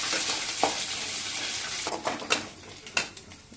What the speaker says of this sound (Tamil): வேர்க்கடலையும் கடலைப்பருப்பும் போட்டு கொஞ்சம் வதங்கின பிறகு உளுந்து போட்டுக்கலாம்.